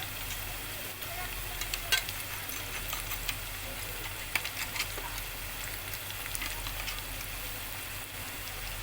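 Rice roasts in a pan for Mysore pulao with a soft, even sizzle, punctuated by light scraping clicks of a spoon stirring it.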